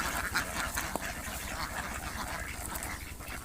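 A flock of white Pekin ducks of the Peking Star-13 type, kept confined beside a pond, quack continuously in a dense, overlapping chorus close by, with no talking.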